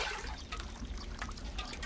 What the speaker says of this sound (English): A continuous stream of spring water is piped right into a basin